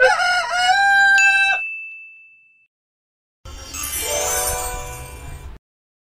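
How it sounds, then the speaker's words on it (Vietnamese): A rooster crows alone after a bright ringing ding, its drawn-out call loud, clear and close. "Con gà trống. Con gà trống."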